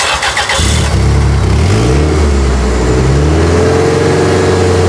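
An old van's loud engine cranks briefly, catches, and settles into a rough, rumbling idle close by.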